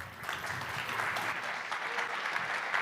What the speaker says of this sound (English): Please give your applause to Patrick